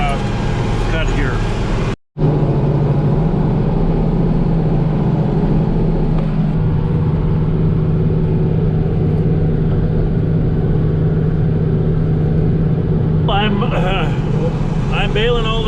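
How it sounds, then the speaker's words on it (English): A tractor works a field baling slough hay, its engine holding a steady, loud drone from inside the cab. The drone cuts out for a moment early on, then continues evenly with faint rattles. "I'm baling all this Slough hay"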